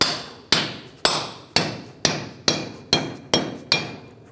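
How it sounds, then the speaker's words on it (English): A rubber mallet taps a front wheel hub into place on a 1996-2002 Toyota 4Runner, nine evenly spaced, sharp, ringing strikes that each fade quickly, close and clear, with no talking. "take a rubber mallet, not a steel hammer, because it'll damage the surface,"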